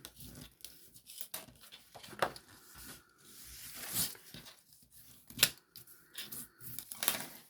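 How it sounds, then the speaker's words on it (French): Paper being creased and folded by hand while making a notepad holder, a run of sharp crisp presses and rustles in uneven bursts, close and fairly quiet, with no speech. "Donc, je marque mes plis."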